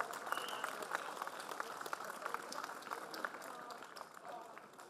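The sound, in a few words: applause at a protest rally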